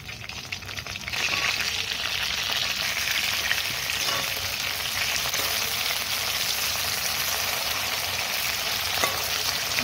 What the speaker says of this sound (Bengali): একদিকে মাছ ভাজা হয়ে গেছে, এবার আমি মাছটা